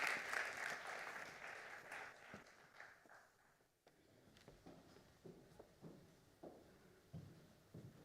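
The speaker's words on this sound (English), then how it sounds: "a round of applause" An audience applauds as a deputy for economic promotion is welcomed on stage at an urban innovation event, clapping fairly loud at first, then thinning out and fading into scattered, sparse claps toward the end.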